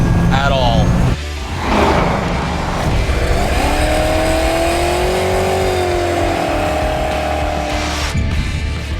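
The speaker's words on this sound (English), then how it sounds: "I am behind the wheel of Emily's first car, a 2005 GTO, aptly named Roxy" Modified 2005 Pontiac GTO with an LS engine driven hard, a loud close engine revving and rising in pitch through gear changes, with a brief dip between pulls and someone talking over it.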